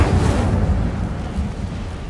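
Incendio fire spell cast in Hogwarts Legacy, a low rumbling whoosh of flame that swells at the start and then fades to a steady, softer roar.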